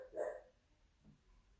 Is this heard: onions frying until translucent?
no